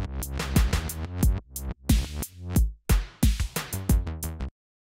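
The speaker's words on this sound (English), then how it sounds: "Toggling this on will flip the audio loop completely backwards" A bass loop played backwards in an audio editor, with swelling reversed notes and percussive hits in a pulsing pattern that stops abruptly, loud and close with no talking.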